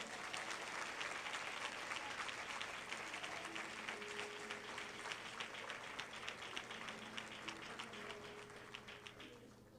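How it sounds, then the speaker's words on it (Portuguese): Applause from a church congregation, many hands clapping in a steady, rhythmic patter, fairly quiet and distant, with a faint tonal hum underneath and the clapping easing slightly toward the end. "Pode aplaudir o Senhor."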